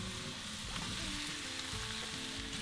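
Small new potatoes frying in goose fat and bacon fat on a Kamado Joe grill: a steady close sizzle with light bubbling and a faint clink at the end, no talking.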